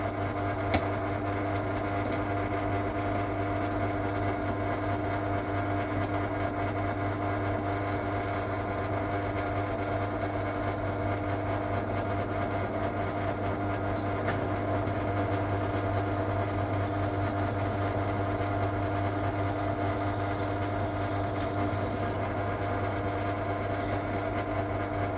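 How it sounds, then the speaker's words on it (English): A pillar drill runs steadily in a workshop while holes are bored through a chassis rail for a scratch-built Tamiya truck trailer model, giving a constant motor hum with fixed tonal bands and no talk over it. "So with the pillar drill, you get a parallel hole all the way through your material."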